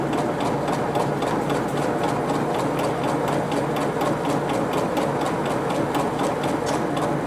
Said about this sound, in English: I'm going to sew down this side with the edge on the 15.